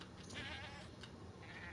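A goat in a castle-building video game bleats in a short, faint, wavering cry, heard alone with no talk over it.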